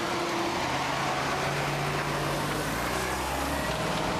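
An electric Hummer H3 driven on a street test drive in a California Highway Patrol–escorted motorcade in Sacramento, heard as a steady, fairly loud road and motor hum with low drone tones and no pauses.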